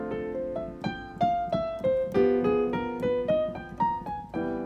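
A jazz lick on piano played straight without swing, a run of evenly spaced single notes climbing and falling in a steady even rhythm, clear and close with no talking.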